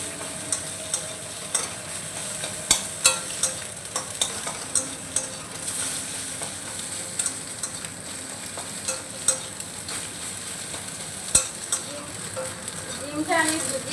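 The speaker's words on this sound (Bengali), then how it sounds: "তো এবার ডিমটাকে ভুজিয়া করে নেব।" An egg stir-fried into bhujia in a pan, steady close sizzling with repeated scraping and stirring strokes of a spatula, occasional sharper clacks of utensil on metal, running throughout.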